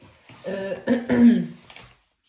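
A woman with a cold coughs and clears her throat a few times in quick succession, close and fairly loud, then silence.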